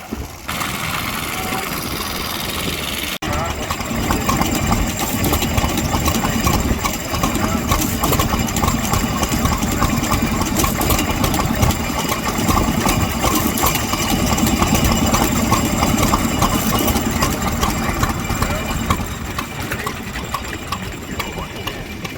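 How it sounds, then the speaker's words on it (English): Old stationary engines chug steadily at a vintage vehicle show in Ladybank, Scotland, a dense continuous mechanical clatter and hum running close and loud throughout, with faint crowd chatter in the background. "I spend a bit of time here just looking at the engines, seeing all the bits moving."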